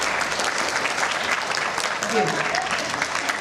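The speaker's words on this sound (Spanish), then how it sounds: "un aplauso para ellas" Audience applause for the jury members, teachers at a school reading event for fifth graders, a brisk, dense clapping from a room full of people throughout, with a brief voice speaking over it.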